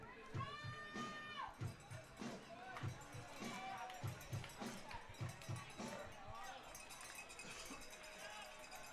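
Crowd at a 4th of July minor-league baseball game between the Lincoln Potters and Bay Area Admirals, a sustained murmur of cheering and shouting with rhythmic claps or thumps, while a commentator talks over it.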